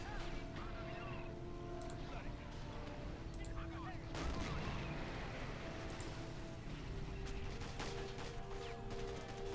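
Heavy Karl and Gustav railway guns firing in Men of War: Assault Squad 2, a low rumbling booming bed with a distinct heavier blast near the middle and faint mechanical hum throughout, moderately distant.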